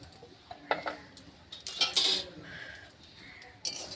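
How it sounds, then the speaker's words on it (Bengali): Semolina is poured into a wok and stirred for sooji kala jamun. Short metallic scrapes and clinks of a utensil against the pan come in a few separate bursts over quiet background. "এই সুজিটাকে আমি একটু কড়াইতে ঢেলে নেব"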